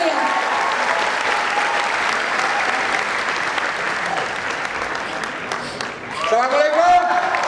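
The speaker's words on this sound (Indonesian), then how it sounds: "Berikan tepuk tangan yang meriah" An audience at a talk-show stage event applauds, a long full burst of clapping that gradually thins, with a voice starting to speak near the end.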